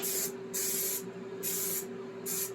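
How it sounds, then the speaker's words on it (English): Spray adhesive hisses onto a Triumph Spitfire hardtop in four short, loud bursts separated by brief pauses, with a faint steady hum underneath. "so now I'm just going to spray glue"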